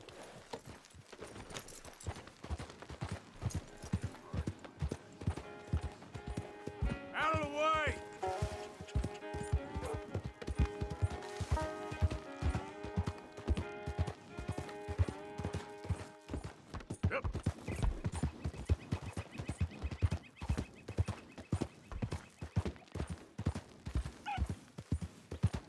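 Horse hooves clip-clopping at a steady trot and gallop in Red Dead Redemption 2, continuous rhythmic thuds throughout, with a brief whinny partway, under background game music and occasional character talk.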